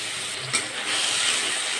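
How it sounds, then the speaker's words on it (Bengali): Spice paste for a vegetarian kofta curry fries in a pan with a close, continuous sizzle and hiss, broken by a brief clatter early on. "ভালো করে মশলাটা কষিয়ে নেব।"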